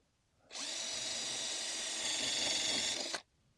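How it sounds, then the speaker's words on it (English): A power drill whines steadily at high speed for about two and a half seconds, close and loud, drilling a hole in a camper roof, then cuts off abruptly. "So we're just going to drill a"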